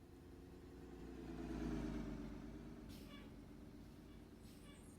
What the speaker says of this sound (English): We definitely have a different engine sound.